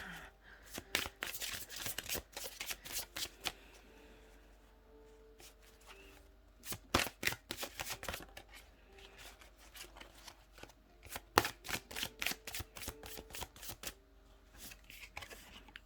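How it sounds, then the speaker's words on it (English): Oracle cards are shuffled and pulled for a tarot reading, giving bursts of rapid, crisp riffling and flicking close up, broken by short pauses and card slaps. "I'm just gonna pull a couple of oracle cards for you"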